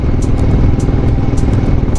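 A motorcycle with a worn rear brake pad rides along with a steady, loud engine drone and rumble, accompanied by recurring faint metallic clicks or clatter at irregular intervals and no voices.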